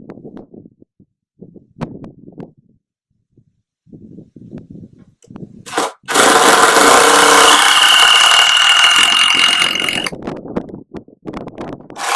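Quiet handling and shuffling, then a loud power drill runs steadily for about four seconds, driving a screw into reclaimed wood for a table frame, before stopping.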